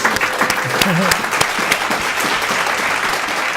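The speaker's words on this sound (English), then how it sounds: "One more big round of applause for our candidates, students, participants." Applause for graduating candidates at a commencement ceremony, a steady crowd clapping loudly throughout, with a voice briefly heard near the start.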